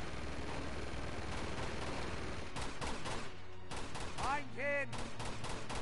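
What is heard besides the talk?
gunfire in the video game Uncharted 2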